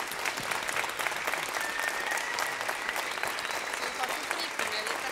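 Audience applause ringing out at a children's choir anniversary concert, a dense, steady wash of many hands clapping close by that holds from start to finish.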